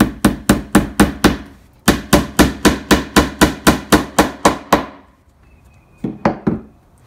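Rapid, loud hammer strikes drive tacks through pre-drilled holes into a leather-covered cabinet corner, about eighteen sharp evenly spaced blows in two runs, then a short pause and a few lighter taps.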